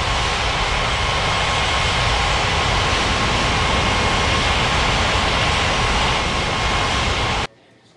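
Airliner taking off in the game Unmatched Air Traffic Control at Ngurah Rai Bali International, runway 27: a loud, steady jet engine roar that holds throughout, then cuts off abruptly near the end.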